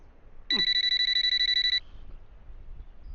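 A phone rings nearby with a rapid, buzzy electronic trill lasting just over a second, then stops, leaving quiet room noise.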